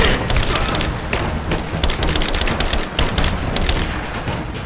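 Enemy gunfire in Rise of the Tomb Raider: dense, continuous bursts of rapid shots and booms crackling without pause, loud and close throughout.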